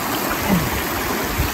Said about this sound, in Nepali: यो सर्दी खोला अब अहिले बगेर यत्रो पानी आउन थालिसकेको छ